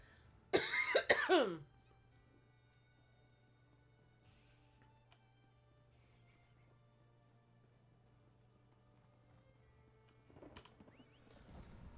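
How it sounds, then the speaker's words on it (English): One loud burst of hacking coughs near the start, followed by a long stretch of quiet hum, then faint rustling toward the end. "Sorry, coughing fits there."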